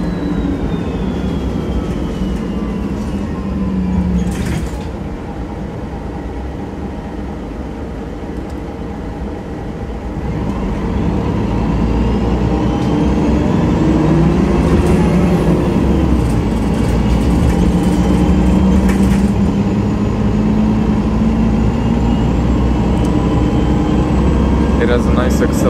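A MAN NG313 articulated bus accelerates through Ljubljana, its diesel engine droning and rising in pitch through the gears. Loud and close throughout, with people talking over it.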